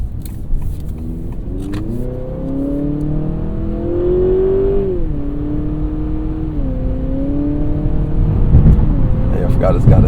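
A 2023 Honda Accord Sport Hybrid in sport mode accelerating with a CVT, its engine note rising in a steady drone that climbs and holds over about ten seconds, heard from inside the cabin.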